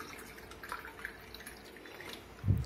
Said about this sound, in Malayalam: ആവശ്യമുള്ള വെള്ളം ഒഴിച്ച് കൊടുത്തിട്ടുണ്ട്.